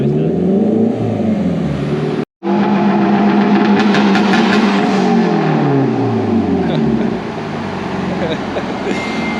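A turbocharged Honda S2000 holds a two-step launch, its engine revving hard and loud with rapid crackling limiter pops, a brief cut near two seconds, then a sustained roar that drops slightly near the end.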